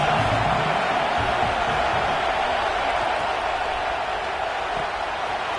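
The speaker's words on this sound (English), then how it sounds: "This crowd trying to make life miserable for this offense." A football stadium crowd at a Michigan versus Arizona State game roars in a continuous, broad wall of cheering and noise, loud and sustained throughout with no clear breaks.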